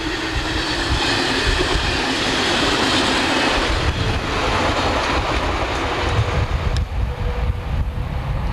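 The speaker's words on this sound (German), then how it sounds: "S-Bahn, wie es aussieht." A German S-Bahn commuter train rumbles past close by on a railway embankment, a loud, broad rushing roar that slowly eases off toward the end.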